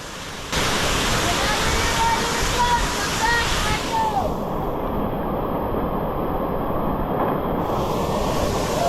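Waterfall at the Garden of Eden Arboretum on Maui, a steady broadband rush of falling water that starts abruptly and holds loud and continuous, with faint bird chirps over it early on.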